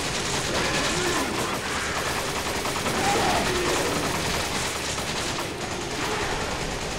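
Gunfire in the co-op video game Resident Evil 5 rattles as dense, continuous bursts and rapid shots, loud and unbroken throughout, layered with game noise.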